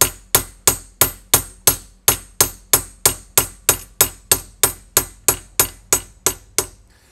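Hammer peening a rivet end on a Chauchat machine gun part, about twenty sharp, evenly spaced metallic strikes at a quick steady rhythm, each ringing briefly before the next, close and loud with no talk.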